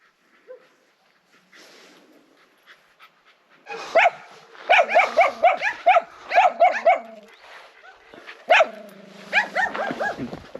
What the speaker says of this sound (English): she seems very wary of other dogs when they're barking